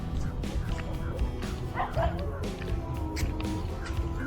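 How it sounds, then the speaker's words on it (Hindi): Dogs bark and yip repeatedly in short bursts at a moderate distance, with a whimper mixed in and background noise throughout. "कुत्ते भौंक रहे थे"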